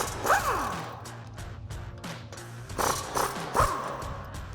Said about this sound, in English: we'll grab an 18mm socket to pop these out.